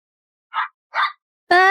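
A dog gives two short soft yips, then a sharper, louder bark, close by and otherwise silent.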